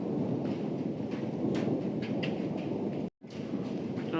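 Thunder rolls through a thunderstorm over Nainital, a loud, steady broadband rumble that fills the whole stretch and cuts out abruptly for a moment near the end before resuming.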